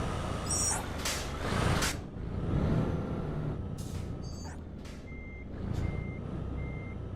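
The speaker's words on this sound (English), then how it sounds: "Those are some good brake sounds." A heavy truck near and loud, with bursts of sharp air-brake hiss over a rumbling engine and a steady series of evenly spaced reversing beeps toward the end.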